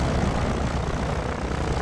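A video game helicopter's rotor and engine drone steadily, with a loud continuous throbbing roar and no voices.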